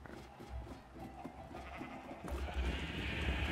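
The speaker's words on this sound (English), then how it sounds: "Stick, we found the sheep" Sheep bleat in a farm pen in a Blue Grass game scene, a wavering, nasal call rising out of a noisy background, fairly close and moderately loud, with no talking over it.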